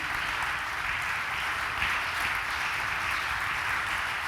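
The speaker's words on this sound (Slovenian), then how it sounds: "Mi bomo pa pomagali z enim aplavzom tudi," Audience applause at ZAG's 75th anniversary ceremony, a steady, dense wash of many hands clapping together, sustained evenly throughout.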